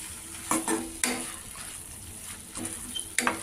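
Spoon stirring gourd and bean curry with freshly chopped coriander in a pan, a few sharp scraping clacks against the metal over a soft steady sizzle, close and alone.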